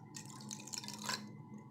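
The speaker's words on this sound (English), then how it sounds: "and now I'm adding the water" Water is poured from a cup into a bowl of raw eggs for scrambling, giving a short, soft liquid trickle and splash lasting about a second at low volume.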